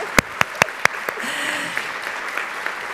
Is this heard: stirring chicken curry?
no